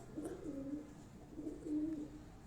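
Pigeons coo on a rooftop in Nawab Shah, Sindh: two soft, low, rolling coos close by over a faint steady background.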